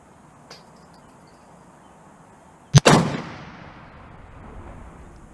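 A single loud, booming shot from a Ruger American Go Wild rifle in .300 Win Mag fitted with a muzzle brake cracks out outdoors, followed by a long rolling echo over a quiet ambient hiss.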